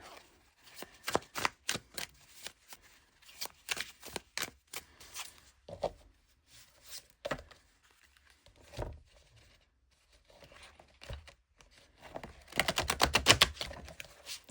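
Hayworth Tarot cardstock cards are riffled and shuffled in quick crisp bursts, separated by short pauses, close up and quiet, ending with a longer rapid flutter.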